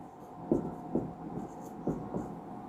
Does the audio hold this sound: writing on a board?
yes